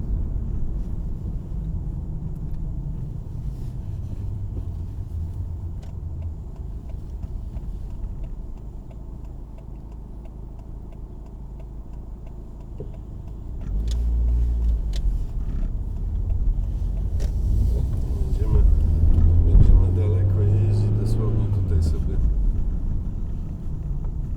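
A 2003 Fiat Stilo 1.6 three-door hatchback on the move, its low engine rumble steady from inside the cabin and swelling louder in the second half, with a voice present at times.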